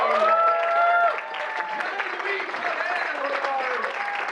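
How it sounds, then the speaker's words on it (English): Audience applause for a comedian at a live podcast comedy event, a steady wash of clapping through the whole clip with talk and voices mixed over the top. "Give him a round of applause, everybody."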